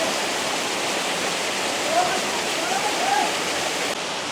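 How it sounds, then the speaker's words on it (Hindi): Corbett Falls waterfall at Kotabagh roars as a steady, loud, broadband rush of falling water, continuous and close throughout with no pauses. "ये है वाटरफॉल"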